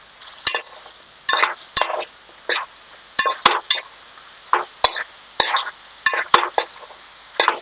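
Okra being stirred in a kadai, with repeated sharp scrapes and knocks of a utensil against the pan over a faint low sizzle, in an irregular rhythm, up close and without talk.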